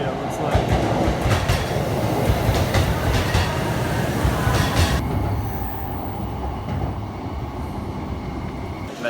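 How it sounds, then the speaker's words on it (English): A Tokaido line train at Tokyo Station rumbles and clatters loudly along the platform during a typhoon, then the noise drops abruptly as it slows to a quieter, steady hum. "There's a train arriving on the Tokaido line."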